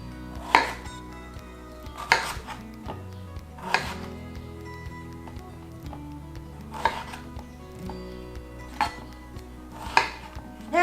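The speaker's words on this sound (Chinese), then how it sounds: "我们先把茄子把蒂头切掉，然后呢切成段状之后再对半切" A knife chops through eggplant on a cutting board, trimming the stem and cutting it into segments, with about seven crisp, evenly spaced thuds close by and quiet pauses between the cuts.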